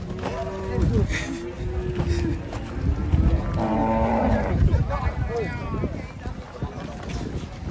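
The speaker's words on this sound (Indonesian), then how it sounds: "Sapi nang ngamuk." Cows mooing nearby outdoors, several drawn-out low calls over wind noise, with people talking and shouting around them.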